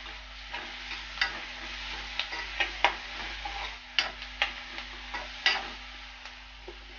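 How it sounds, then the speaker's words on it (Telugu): Boti curry with ginger garlic paste being stirred in a pan, with repeated spoon clicks and scrapes against the metal over a low, steady sizzle. "అల్లం వెల్లుల్లి పేస్ట్ 1 స్పూను, ఇప్పుడు బాగా కలుపుకోవాలి."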